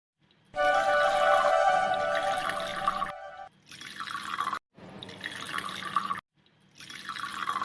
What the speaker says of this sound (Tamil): அவங்களுக்கு தண்ணி பாத்ரூம்க்கு எடுத்து ஊற்றிடலாம்